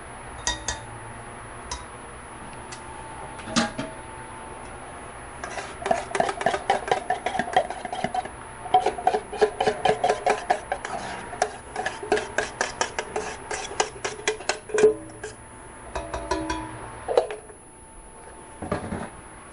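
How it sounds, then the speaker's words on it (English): Banana nut muffin batter with peanuts is stirred by hand in a big mixing bowl, giving a quiet start and then a long run of rapid scraping, rubbing strokes with light clinks of utensil against the bowl, with no talking. "And now mix all the stuff together in the big mixing bowl."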